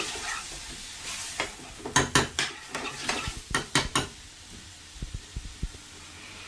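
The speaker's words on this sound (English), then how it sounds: "So we need to sweat these onions down for at least 5-6 minutes." Onions sweat and fry in a pan for chicken tikka masala with a soft steady sizzle, broken by several clattering spoon strokes against the pan and lighter scraping taps toward the end, with no talking.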